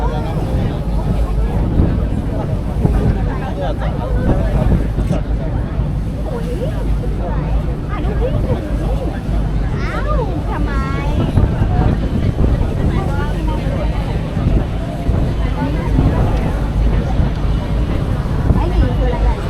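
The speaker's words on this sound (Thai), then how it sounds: "ลมก็จะแรงนิดนึงนะทุกคนต้องขอโทษขออภัยด้วยนะครับนะเพราะว่ารู้สึกว่าลมแรงมากๆนะครับ" Strong wind buffets the microphone on a cruise boat at sea, a constant loud low roar with the boat's rumble underneath, while someone talks over it throughout.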